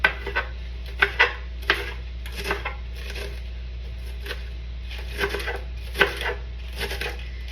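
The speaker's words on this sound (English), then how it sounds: "I'm going to roll them and I'm going to chop them up." A knife chopping through rolled-up cabbage leaves on a board, an uneven series of close, crisp cuts with short gaps between them, over a steady low hum.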